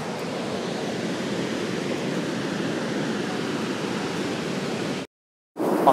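Niagara Falls in Canada, a massive waterfall heard as a steady, loud, broadband roar of rushing water with wind buffeting the microphone, continuous for several seconds before cutting abruptly to silence and then resuming.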